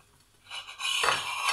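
A knife slices through a soft, fluffy pan-cooked cake studded with pomegranate seeds, giving a brief close rasping scrape that rises and holds for about a second.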